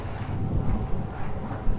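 Wind rushing over a sailboat motor sailing straight into the wind, a brief, loud, rumbling buffet across the microphone with low gusting swells and no talking.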